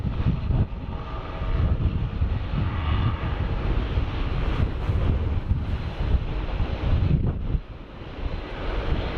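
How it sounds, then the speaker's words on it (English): Airliner engines at full throttle with the parking brake on during a run-up test at Sydney Airport, a distant, broad roaring rumble mixed with heavy wind buffeting on the microphone, swelling and easing over several seconds. "It's going full throttle over there with the parking brake on just to test the engines."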